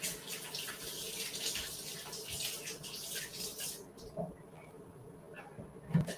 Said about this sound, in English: Let me rinse off your hands.